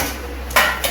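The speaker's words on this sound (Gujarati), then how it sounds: "વાસણ માંજે છે. વાસણ માંજે ચડાવે છે." Steel utensils being scrubbed and washed in a home kitchen give two sharp, close clinks in quick succession against a quiet background.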